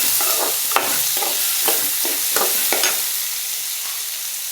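Tomatoes go into a hot frying pan for a South Indian style dish, with a steady sizzle and a spoon stirring and scraping in irregular strokes, close up and continuous.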